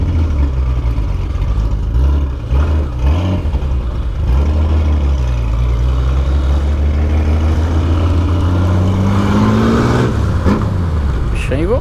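A car passes close by on a Brazilian road, its engine rising to a steady roar and then fading, heard from a motorcycle alongside its continuous rumble, with someone talking over it.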